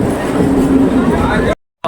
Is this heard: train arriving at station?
yes